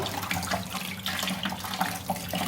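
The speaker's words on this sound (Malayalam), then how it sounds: "നമ്മളിത് പൈപ്പ് തുറന്ന് വെച്ച് കഴുകുകയാണെന്നുണ്ടല്ലോ ഇതിൻ്റെ ഇലയിലുള്ള പൊടികളൊക്കെ പെട്ടെന്ന് ഇങ്ങനെ പോകും" A kitchen tap runs steadily while tulsi leaves are rinsed under it to wash off dust, giving a close, continuous splashing stream with no voices.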